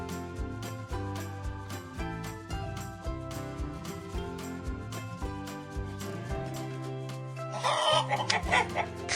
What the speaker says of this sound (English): Cluck, cluck.